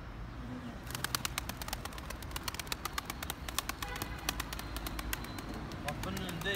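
Pigeon wing flaps and scattered chirps on a Turkish rooftop loft while a red-tailed stray is chased, a run of sharp flutters over steady outdoor background, with people talking throughout.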